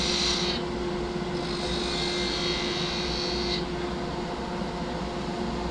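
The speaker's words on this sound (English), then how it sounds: "Planing cut to true up the cylinder" A skew chisel takes a planing cut along a spinning wooden cylinder on a wood lathe, making a steady hissing shear over the motor's hum, with a brighter rasping stretch in the middle, close and continuous, no talk.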